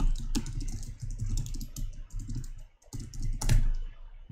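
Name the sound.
typing on a computer keyboard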